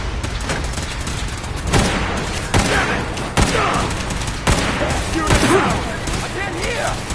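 Video game combat with dense, continuous gunfire and booming impacts, a loud barrage of bursts and thuds running throughout, mixed with game character voice lines.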